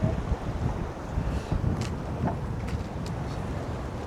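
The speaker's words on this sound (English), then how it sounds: "the wind has picked up so much" Strong wind roars steadily across a single-handed sailboat running fast at sea, a dense broadband rush with faint water sounds and no talking.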